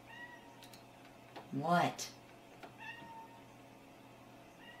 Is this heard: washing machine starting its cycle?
no